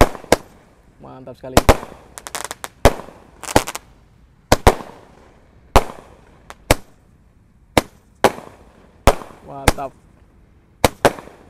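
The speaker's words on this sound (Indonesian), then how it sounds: "Roman candle. Kita nyalakan sekaligus guys sore ini." Two Roman candle fireworks are lit together in the late afternoon and fire sharp, loud pops in an irregular series of about a dozen shots. Brief fizzing comes between the shots, and someone speaks excitedly between the bursts.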